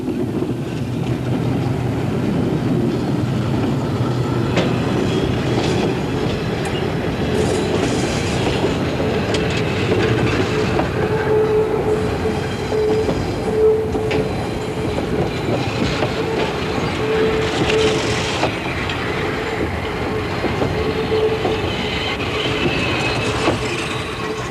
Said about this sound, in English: Our train slows down for an excellent view.